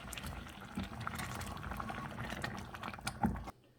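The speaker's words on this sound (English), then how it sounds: "We're going to let it boil for 1 to 2 minutes just to set the pepper." Pepper jam at a rolling boil in a pot, a steady dense bubbling and popping that runs close and continuous before cutting off abruptly near the end.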